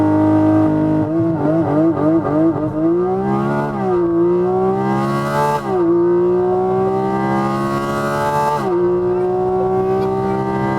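A loud, close 2023 Porsche GT4 RS engine revving hard under launch control and accelerating through several rising gear pulls, each climb ending in a brief dip before surging again.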